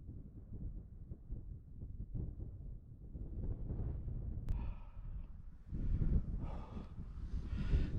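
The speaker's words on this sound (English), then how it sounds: "So it's a bit windy up here" Wind buffets a microphone in low, uneven gusts on a fell summit near Great End in the Lake District, rising louder toward the end, with a faint brief click midway.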